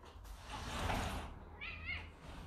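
A pet cat meowing indoors, one drawn-out, wavering meow following a stretch of nearby rustling, clear and close.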